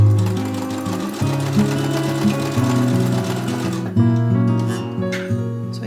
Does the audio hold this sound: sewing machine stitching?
yes